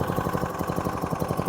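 A tiny lawn mower's small engine sits at low idle, a steady, even, close putter with a fast regular pulse and no voices.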